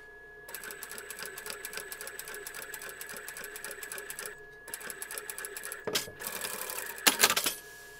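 A sewing machine stitches a short seam on a plush Easter goose's removable denim trousers, running in rapid close bursts with a brief pause and louder fabric handling at the end.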